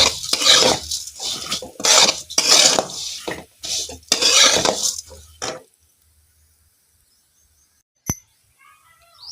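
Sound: vermicelli being stirred and roasted in a pan

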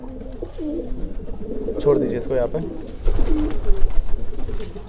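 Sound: pigeon cooing

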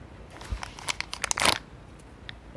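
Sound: opening a plastic package

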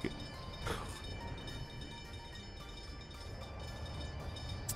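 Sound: train running in video game Workers and Resources

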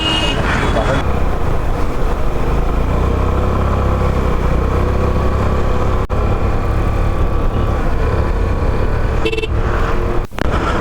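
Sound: scooter engine while riding

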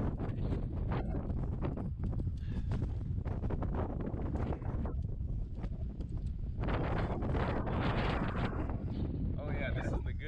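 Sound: wind blowing against climbing wall on Quartz Mountain

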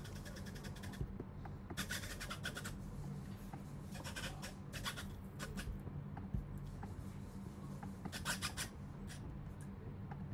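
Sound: Nybble robot cat's foot scratching on the ground

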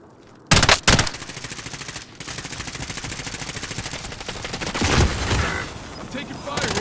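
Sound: gunfire in video game Call of Duty Warzone

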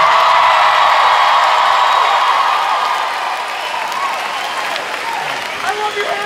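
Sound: concert audience applause and cheering

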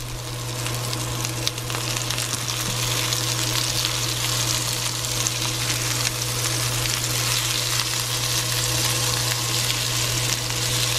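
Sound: ranch poppers frying in oil in a pan

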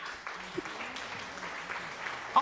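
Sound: applause

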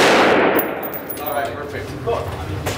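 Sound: gunshot at a shooting range

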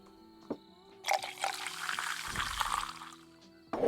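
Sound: pouring beer in the video game Tavern Manager Simulator

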